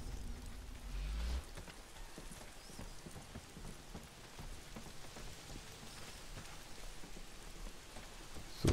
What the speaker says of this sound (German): Wieso regnet das denn hier?